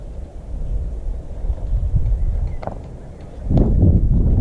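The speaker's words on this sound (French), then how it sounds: "Là, il y a un peu de vent" Wind buffets the microphone with low rumbling gusts, strengthening toward the end, alongside a few faint thumps.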